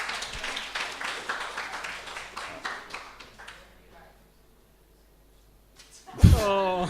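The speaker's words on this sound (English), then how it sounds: "There's one round of applause." Scattered applause from a small audience at a casual coffee house session, a few seconds of clapping that thins out into near silence before a voice speaks up loudly.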